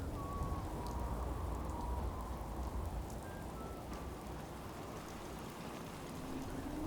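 Rain falls steadily in the Fallout 4 video game, a soft continuous patter and hiss on surfaces, low and even with faint tonal game sounds in the background.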